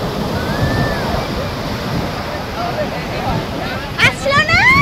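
Sea waves wash onto the sand at Puri beach in a steady broadband rush, with a brief louder surge of water near the end and faint voices in the background.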